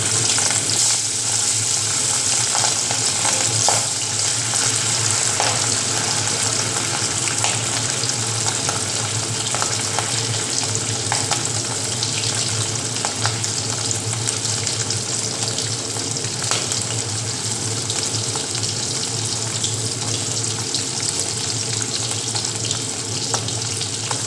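Pieces of aar fish fry in hot oil, making a loud, continuous, even hiss and crackle throughout, close by and without talk.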